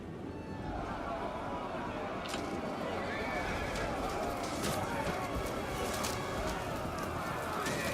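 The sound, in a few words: cavalry horses galloping in Rome 2 video game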